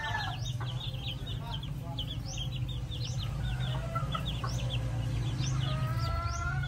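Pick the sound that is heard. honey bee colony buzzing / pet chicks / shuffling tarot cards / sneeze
pet chicks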